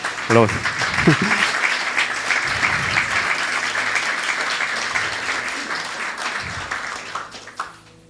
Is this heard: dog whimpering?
no